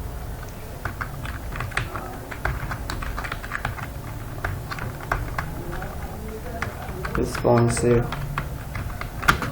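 Computer keyboard typing during an HTML lesson, a steady run of close, crisp key clicks with irregular rhythm continuing throughout, while someone speaks briefly over it.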